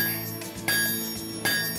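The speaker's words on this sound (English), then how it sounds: "We make dinner bells" A blacksmith-forged dinner bell at a ranch rings in bright metallic strikes, two sharp hits about three-quarters of a second apart, each followed by a long sustained shimmering ring.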